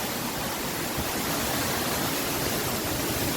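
Rushing water at Jhinkra waterfall in wet forest, a steady dense broadband roar that stays even and continuous throughout, with no voices heard.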